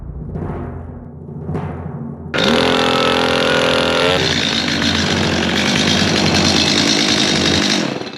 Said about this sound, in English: Saw back into full choke.